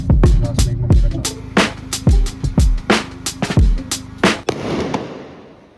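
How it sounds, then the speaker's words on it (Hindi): Firecrackers set off during Diwali crack in a rapid, irregular run of sharp, loud bangs, each one echoing and dying away before a rough fizzing tail at the end. "ये पटाखे भी फोड़ने लग गए हैं"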